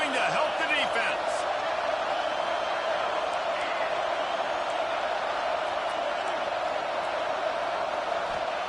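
Roar of a college football stadium crowd swelling to back the defense late in a big play, a dense, steady wall of cheering noise with some brief whoops near the start.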